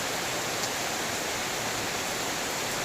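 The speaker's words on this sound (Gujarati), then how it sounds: "અમારે આ રીતના વરસાદ પડે છે અટાણે." Steady rain pouring down during the monsoon sowing season, a dense, even hiss that stays constant and fairly close throughout with no other sounds on top.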